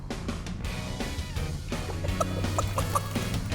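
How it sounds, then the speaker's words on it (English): A cartoon chicken clucks in a few short, bright, bouncy calls over a steady bed of background music, lively and close. "When you see a chicken coming, say chicken."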